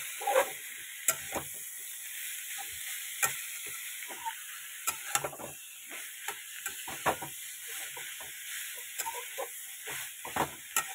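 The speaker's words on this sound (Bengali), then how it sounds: "ভালো করে ভাজতে হবে।" Banana flower fries in a pan, a constant soft sizzle and hiss broken by frequent sharp clicks and scrapes of stirring, heard close with no talking.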